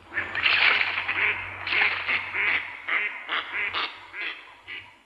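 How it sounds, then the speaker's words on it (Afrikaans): Wild ducks quack in a rapid, uneven series of loud, nasal calls close by, repeating in bursts over a low steady hum with no talking. "Die gekwaak van wilde eende."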